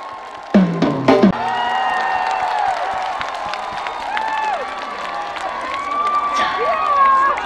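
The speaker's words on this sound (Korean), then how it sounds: "큰 박수로 환영해주세요" An outdoor crowd at the Guri Cosmos Festival cheers and claps to welcome a young trot singer: a few sharp claps at the start, then sustained crowd noise with shouts and voices over a broad murmur.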